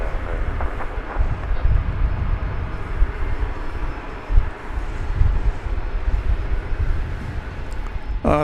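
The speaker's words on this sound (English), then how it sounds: "The plane you're seeing there is American Flight 1288" An American Airlines plane, Flight 1288, at DFW Airport gives off a continuous low jet-engine roar, loud and steady with a broad rumbling wash, heard from the ground at a moderate distance.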